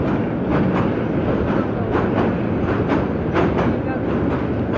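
A train crossing the old red 1937 British-built rail bridge at Bhairab, a loud continuous rumble with rhythmic clickety-clack of wheels over the girders, close by.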